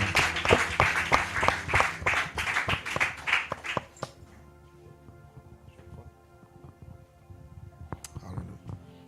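Congregation at a church worship service claps in acclamation to God, a dense burst of many hands beating fast and loud for about four seconds, then thinning to scattered claps and faint background sounds.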